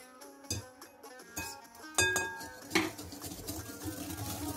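Cake ingredients, including sugar, are mixed together in a bowl, with intermittent clinks and knocks of a utensil against the dish followed by a steady busy scraping.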